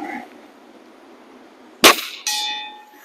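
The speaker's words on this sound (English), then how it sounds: "we're going to ring that bell" Two sharp metallic rings from a bell struck in celebration: a first hard clang, then a second strike that rings on with a clear, decaying tone, set against near silence.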